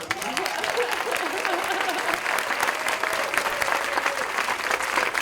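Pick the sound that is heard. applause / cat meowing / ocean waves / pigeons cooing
applause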